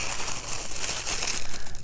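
Tissue paper crinkling and tearing while a clothing subscription crate is unboxed, a dense continuous rustle of crumpling paper heard up close for a couple of seconds.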